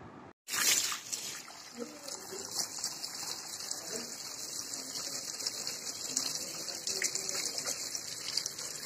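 Water streams from a pipe into a container at home, a steady close-up gushing splash that begins abruptly after a brief pause and keeps flowing without a break.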